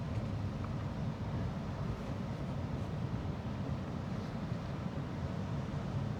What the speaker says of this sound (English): I can hear the waves hitting the coast over here.